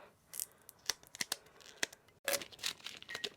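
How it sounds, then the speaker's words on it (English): Transfer tape peeled slowly off a Cricut Joy vinyl decal on a Dollar Tree craft, giving a string of short crackling rips and taps with a longer tearing burst midway, close and quiet. "I am just going to slowly bring the transfer tape off"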